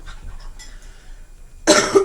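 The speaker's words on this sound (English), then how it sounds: "I was going to pause it so you didn't have to hear me cough" A single loud cough bursts out near the end, close and sharp, after a stretch of near silence with faint low background noise.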